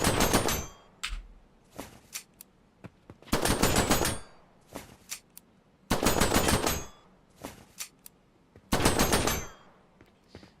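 Handgun fire in an Unreal Engine game, loud sharp shot bursts repeating in clusters every second or two with brief quiet gaps between, no voices.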